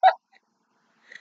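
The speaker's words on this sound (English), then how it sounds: "Oh, yeah, you do have the hiccups!" A puppy hiccups: one sharp hiccup right at the start, then a softer second one about a second later, with near silence between them.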